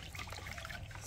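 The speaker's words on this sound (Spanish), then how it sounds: "Aquí solo estamos pasando agua" Tap water runs over food being rinsed, a brief close splashing trickle with no talk.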